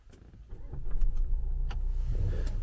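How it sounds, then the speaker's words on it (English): A 2019 Land Rover Discovery Sport starting up, a click or two followed by the engine catching and settling into a low, smooth, quiet idle heard from inside the car. "You can't see a whole lot going until you get the engine running."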